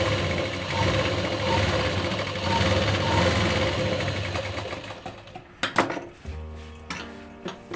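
Sewing machine running steadily while stitching tucks on a blouse, a continuous whirring hum that breaks into short irregular bursts near the end as it stops and starts.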